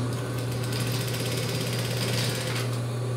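Sewing machine running a seam on a child's jumpsuit, a steady fast mechanical hum with a constant rapid stitching buzz, close and continuous throughout.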